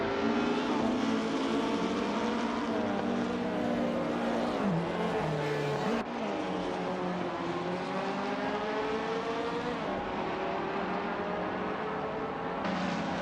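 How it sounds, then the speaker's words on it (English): Engines of 1950s Formula One race cars in a racing video game at Le Mans, a loud, continuous multi-car roar with pitch sweeps as cars rev, shift and pass, steady throughout. "We just saw some cars exiting the pits and rejoining the race in different positions."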